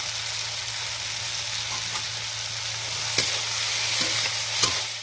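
Red chili powder and spices sautéed in a pan with potato and taro for a rohu fish curry give off an even, hissing sizzle. A few faint spatula clicks sound near the end.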